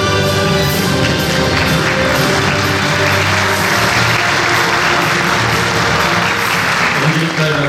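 Audience applause at a short film festival awards ceremony as a first-prize winning film's director is called to the stage, a dense, steady wash of clapping lasting several seconds with some background murmur.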